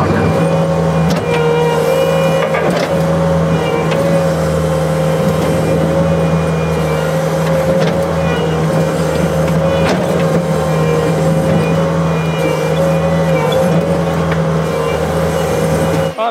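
A farm machine's engine drones steadily and loudly throughout while its forks pry a rock out of a ditch, with no distinct impact standing out above the motor.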